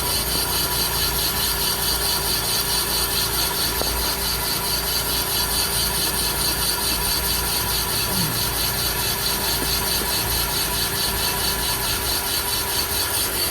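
A Van Norman boring bar cuts the cylinders of a small-block Chevy engine block for a marine 383 build, giving a steady, loud machining whir with a grinding, rasping texture that runs unbroken and without talk.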